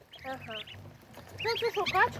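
Small goslings calling in short, high, rapid peeping bursts, close by, in two clusters with a person speaking softly alongside.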